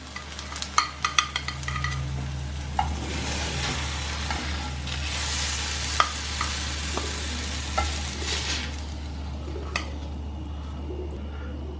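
Plantain slices frying in ghee: a steady, close sizzle runs throughout under a low hum, with a few light clicks of a utensil against the pan.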